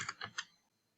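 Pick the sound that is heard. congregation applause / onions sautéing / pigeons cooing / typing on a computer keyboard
typing on a computer keyboard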